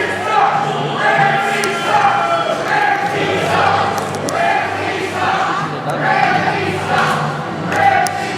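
Wrestling crowd booing and shouting at Zakk Ramses during an 814 Wrestling title match against "Big" Tony Onyx, a loud, steady wall of massed voices that surges in waves, with no clear speech.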